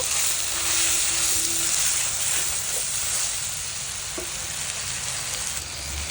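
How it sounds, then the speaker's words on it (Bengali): Tengra fish go into a pan of sautéed bitter gourd and other vegetables and get a light stir, producing a loud, even sizzle and hiss throughout with a few faint scraping touches and no voices. "এখন এই চ্যাংড়া মাছগুলো দিয়ে দিব দিয়ে হালকা একটু আবার নেড়ে দিব"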